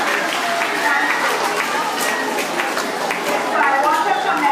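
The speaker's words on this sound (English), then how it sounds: "Now can the boys give them a round of applause?" Boys give a round of applause at the unveiling of a mural, honouring the people who created it: busy, crowded clapping mixed with excited voices and chatter, fairly close and steady throughout.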